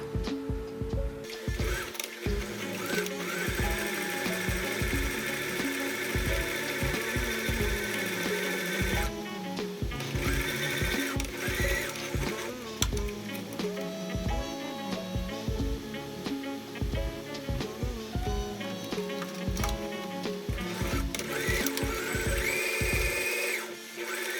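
A sewing machine stitches fabric seams for a handmade bag, its rapid mechanical whirring running in bursts with brief pauses between runs, close and steady.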